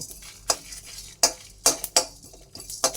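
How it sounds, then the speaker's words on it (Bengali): Spices being lightly dry-roasted and stirred in a clay pan: a few sharp scraping clinks spaced irregularly over a low background, with no voices. "কাঠখোলাতে ভেজে নেব এগুলো যেন পুড়ে না যায়"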